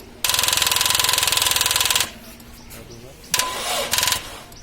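A car engine cranks hard with its self-starter for about two seconds and fails to catch, pauses, then gives a second shorter crank that also dies. A nearby voice talks over it.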